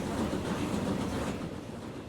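A steam-era train in the Transport Fever 2 game chugs slowly uphill, a continuous low rumble with rhythmic clattering that eases slightly toward the end, no speech.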